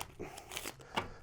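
A deck of playing cards is shuffled during a card magic routine, giving a brief, soft riffle of quick papery flutters and taps close by with no talking.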